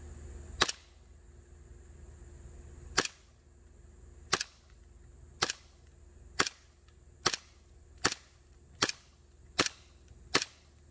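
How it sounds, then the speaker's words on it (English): A Jag Arms GMX1B Hi Capa airsoft pistol running on green gas fires about ten sharp, loud cracks at an uneven pace, each shot standing alone over a faint background hum. "we're going to get on the chrono with the .2s and we're going to see exactly what it is shooting with that green gas"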